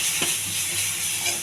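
An egg frying lightly in a pan gives a close, steady sizzle with soft hissing, loud and continuous with no voices.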